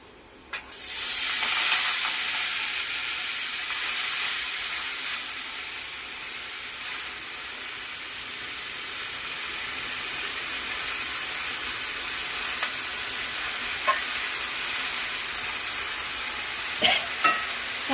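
Washed fenugreek greens dropped into hot oil with frying garlic and green chili, a loud burst of sizzling that settles into steady hissing frying, with occasional stirring clinks and no talk.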